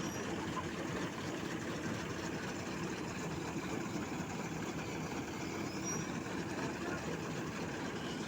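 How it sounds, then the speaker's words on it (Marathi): A John Deere tractor engine runs steadily during wheat harvesting, a continuous low rumbling drone, fairly faint and even throughout with no voices. "joint dear tractor joint dear"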